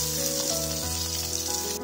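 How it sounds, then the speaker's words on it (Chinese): Eggs fry in a small pot of hot oil with a steady, continuous sizzle and a faint hum underneath, with no voices. "油热后放入鸡蛋煎香"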